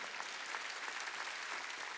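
Faint, continuous clapping from a congregation during a Wednesday church worship service, soft and distant with no voices over it.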